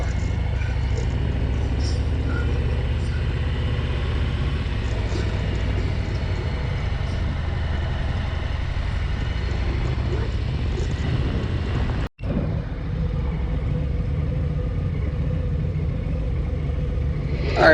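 Steady traffic roars along International Speedway Boulevard, the main drag in front of the Daytona Speedway, during bike week: a continuous loud rumble of passing vehicles with heavy wind buffeting on the microphone, briefly dropping out near the end.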